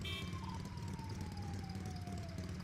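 An ambulance siren wails in a slow descending sweep at a beach in Pantai Morib, fairly distant and steady over low background rumble, with no voices.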